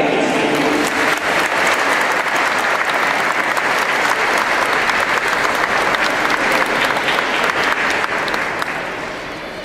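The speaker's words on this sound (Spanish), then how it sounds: "Un gran aplauso para todos los padres y padrinos." A church congregation at a baptism breaks into loud, sustained applause for the parents and godparents, a dense wash of clapping that continues steadily for nearly ten seconds before easing off at the end.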